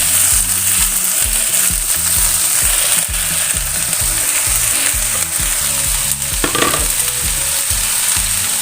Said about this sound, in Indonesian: Lalu kemudian di sini masukkan sawi putih.